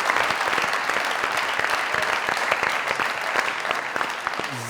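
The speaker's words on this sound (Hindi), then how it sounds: "जोरदार ताली।" Dense, sustained audience applause on a comedy talk show, loud and continuous throughout without a break.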